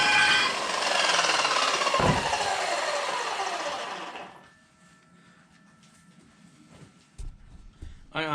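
A power saw cuts metal for a welding-rig flatbed, giving a loud, harsh, continuous grind for about four seconds. It then winds down into quieter workshop sounds, with a few knocks and clanks near the end.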